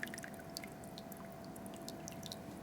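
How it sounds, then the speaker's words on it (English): Water leaking from a 30-liter ultrasonic cleaner used to clean Harley parts, scattered faint drips landing irregularly over a steady low hum. "Seems to be a water leak."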